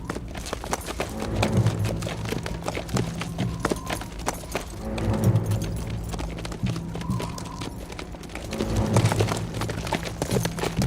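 Horses clip-clop along at a steady trot, hooves beating a close, repeating rhythm that swells and fades in waves, with a faint murmur of voices in the background.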